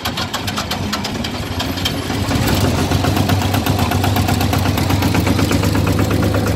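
Old Ford tractor engine running steadily while driving to a farm silage pit, a loud, continuous rough mechanical chug with a rapid knocking pulse that grows slightly stronger partway through.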